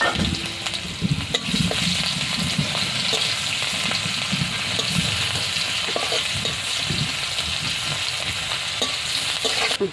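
Ground mustard, radhuni and green chili paste frying with onion in oil, a loud close sizzle with frequent scraping and stirring against the pan.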